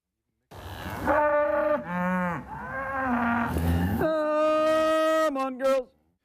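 Cattle on a 160-acre farm with 40 head, south of Eugene, call out in several loud, drawn-out moos one after another, close by and rising and falling in pitch.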